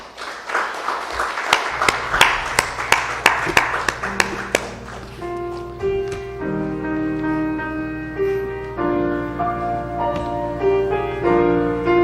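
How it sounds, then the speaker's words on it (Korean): A Korean church congregation claps for the choir at a Sunday service, a few seconds of sharp rhythmic claps that stop as organ or piano chords swell and ring on. "박수하겠습니다"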